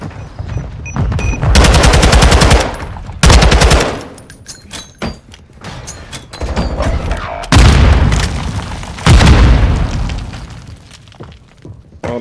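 Grenade blasts and gunfire roar through a Call of Duty search-and-destroy match, with loud bursts of automatic fire and booming explosions arriving in several dense waves separated by brief quieter gaps.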